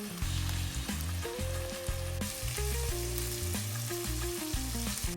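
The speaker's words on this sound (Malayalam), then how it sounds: "ഇതുപോലെ തിരിച്ചു മറിച്ചു വിട്ട് ഫ്രൈ ചെയ്തെടുക്കും." Chicken kondattam fries in hot oil with a dense, crackling sizzle, loud and close, with occasional stirring clatter as the pieces are turned, steady throughout without voices.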